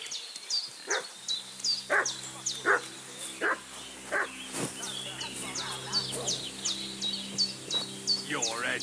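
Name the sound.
dog barking in a video game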